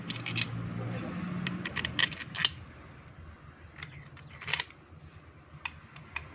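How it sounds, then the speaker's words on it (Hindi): Metal bolts clink and tap as they are dropped into place while fitting the crankshaft of a Suzuki Bolan engine, with several sharp, brief metallic clicks spread over a low background hum. "ये करने के बाद दोस्तों बोल्ट डालने हैं।"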